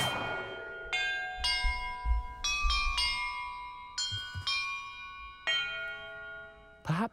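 Tuned bells in a Hogwarts Legacy puzzle strike one after another in a slow melodic sequence, each clear ringing tone sustaining and overlapping the next, with no talk.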